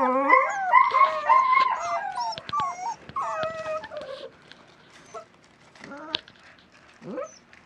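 West Siberian Laika puppies, about five weeks old, howl and yip in a close, loud chorus of rising and falling wails, thinning to a few scattered whines and short yelps toward the end.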